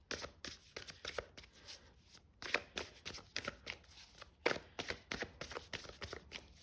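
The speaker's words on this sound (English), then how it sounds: "So I just want to shuffle another deck" A deck of tarot cards being shuffled by hand in repeated riffling bursts, close and fairly quiet, with brief pauses between passes and no talking.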